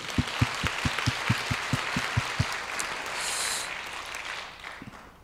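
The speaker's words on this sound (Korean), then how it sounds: "그렇게 하실 하나님께 감사의 박수 올려드리겠습니다" A church congregation bursts into applause, with rhythmic group clapping that fills the room for a couple of seconds before fading into a diffuse crowd murmur and a few scattered claps.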